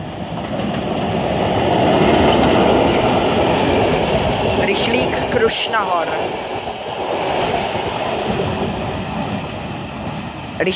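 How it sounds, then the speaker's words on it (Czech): The Krušnohor express train passes near Duchcov in northwestern Bohemia, a loud, close rumble swelling and fading with rhythmic clattering of wheels and brief metallic squeals midway. "Jede rychlík Krušnahor."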